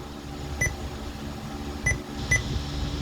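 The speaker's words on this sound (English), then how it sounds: "You gotta turn that beep thing either down" Three short, sharp electronic beeps from a Soundstream VRCPAA-70MW car stereo head unit at uneven intervals over a steady low hum, with no one talking.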